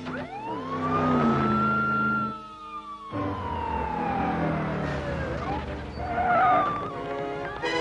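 A cartoon police siren arrives, its loud wailing tone sweeping up and down, then breaks off briefly before resuming with vehicle noise and shrill whistle-like tones near the end.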